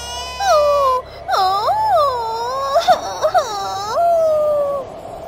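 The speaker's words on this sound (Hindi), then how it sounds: "वहाँ पर छोटे छोटे बच्चों की रोने की आवाज आने लगती है" Small children crying in an eerie horror-story sound effect, a series of long wavering wails rising and falling over about five seconds, loud and close with brief gaps between cries.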